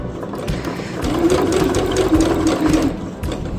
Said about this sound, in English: I am just continuing sewing along